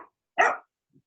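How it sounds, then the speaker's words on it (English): A dog gives a single sharp bark heard over a quiet online video call, with a faint short noise just before and a tiny soft sound after. "Somebody's dog."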